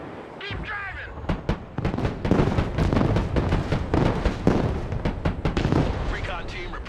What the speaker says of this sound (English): Artillery engaged!